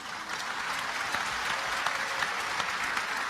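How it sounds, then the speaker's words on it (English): A large audience at a religious lecture claps, a fairly soft, distant, steady wash of applause lasting a few seconds. "you're clapping"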